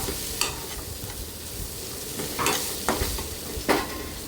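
A spoon stirs chili masala in a hot pan while making egg bhurji, giving a soft, steady sizzle broken by a few sharp scraping strokes, close and quiet, with no talking.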